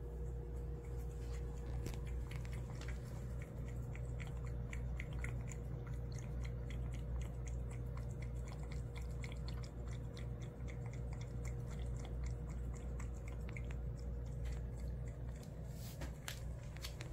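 A pet chews and eats food with soft, repeated wet clicks and crunches, faint and continuous over a steady low hum for the whole stretch.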